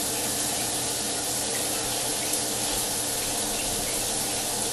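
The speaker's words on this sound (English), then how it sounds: "Let's shower." A home shower runs with a constant, dense hiss of spraying water that stays even and unbroken throughout, close by and fairly loud, with no voices.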